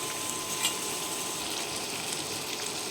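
Cashew and paneer frying in a pan, a steady soft sizzle and crackle running continuously at low volume with no talk.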